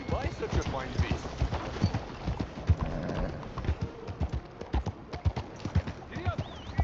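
Horse hooves clip-clopping in Red Dead Redemption 2, a brisk uneven beat of hoof strikes at close range, heard alongside game dialogue and voices talking over them.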